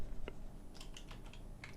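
Computer keyboard keys pressed during digital painting and texturing of a 3D shark model, a few scattered, fairly soft clicks spaced irregularly in a quiet room with no talking.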